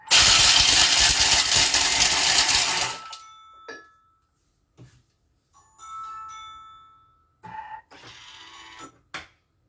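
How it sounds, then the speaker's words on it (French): A food processor chops almonds in a short, loud whirring burst of about three seconds, followed by quiet clinks and small rattles of the bowl and pieces. "on va mixer 50 grammes d'amandes, 2 secondes vitesse 7, juste pour les concasser en morceaux"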